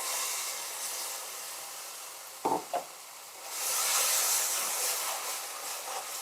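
Ground tomato paste goes into a hot pan with a brief thump, then a hissing sizzle swells and holds steady. The sizzle stays fairly close and bright, and no one talks.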